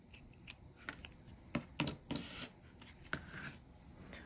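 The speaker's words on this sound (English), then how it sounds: "Save some time by stacking it up and cutting out multiples at once." Scissors snip through a stacked pile of crepe paper leaves at close range, producing a series of crisp, irregular cuts with soft paper rustling between them.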